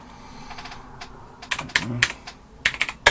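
Keys clatter on a small pocket computer's keyboard, typed close up in short bursts of quick clicks with brief pauses between them.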